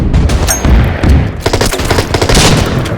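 Rapid bursts of gunfire and machine-gun fusillades crackle loudly and continuously in Order of Battle: Pacific, a World War II strategy game with U.S. Marines, with dense overlapping shots and thuds.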